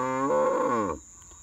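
A single cow on a cattle farm gives one loud, close, drawn-out moo lasting about a second, followed by quiet.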